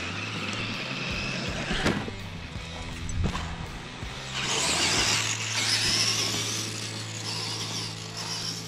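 Monster truck engines, including a Grave Digger truck, rev and drive over rough ground, with a steady motor drone, a few sharp knocks and thumps, and louder revving bursts in the second half, heard up close.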